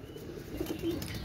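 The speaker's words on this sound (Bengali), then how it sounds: "এক জোড়া দেখেন, এক জোড়া গোল্ডেন কবুতর, মাশাআল্লাহ।" A pair of golden Pakistani pigeons coo softly, with a few short, low, throaty notes that are faint and close against quiet background noise.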